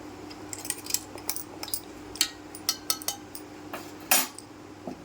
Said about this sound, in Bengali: হাফ চামচ মতো হলুদ দিয়ে ভালো করে সেটাকে আমি চামচ দিয়ে নেড়ে চেড়ে